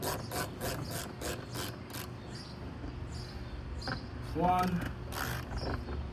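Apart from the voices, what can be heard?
ratchet with 10 mm socket removing bolts on BMW X5M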